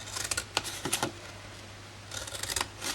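Scissors snip through a strip of card while making a stitched-shapes gift bag for wedding favours, a quick run of close crisp cuts, a pause, then another burst of snipping.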